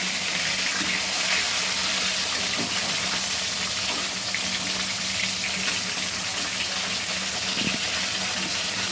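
Fish sizzle and hiss in hot oil over a high gas flame, a steady loud crackling fry that runs unbroken throughout with scattered small pops.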